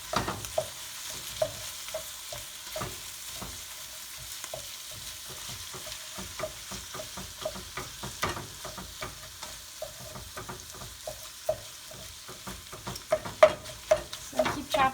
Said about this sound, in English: I'm going to put my 2 pounds of beef in there.